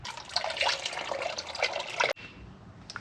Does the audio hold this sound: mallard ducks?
no